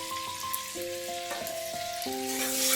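Fennel seeds sizzling in hot butter in a pan, a steady close crackle and hiss with faint tonal ringing running underneath, no voices.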